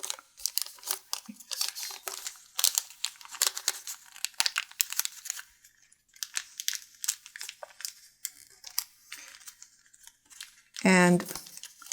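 Origami paper being folded and creased for a Hina doll, with crisp crinkling and rustling throughout as a voice explains the steps over it, ending in a louder close rustle.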